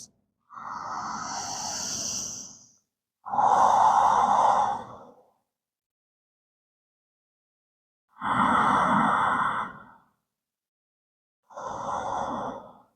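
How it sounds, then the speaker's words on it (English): Ujjayi breathing drawn in and out through the nose during a power yoga flow, four long, soft, hissing oceanic breaths with pauses between, close and alone without talk. "breathe in and out through our nose, creating that oceanic sound with our breath"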